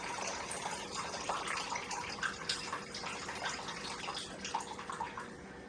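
Fresh juice pours steadily from a juicer's small spout into a dish in a home kitchen, a continuous trickling and splashing with faint drips.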